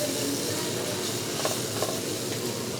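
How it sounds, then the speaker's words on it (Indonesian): Bean sprouts, chili and spring onion stir-frying in a pan, a dense continuous close sizzle with faint scrapes of stirring and no talking. "Kita tumis dulu aja."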